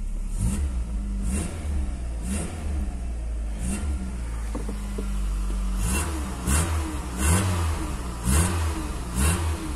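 A 1994 Volkswagen Santana CLi with its original exhaust silencer idles steadily close by, then is revved in a series of short, even blips.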